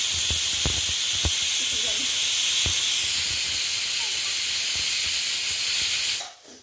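Steady, loud steam hiss from a pressure cooker runs throughout, with a few clinks and faint background voices, cutting off near the end.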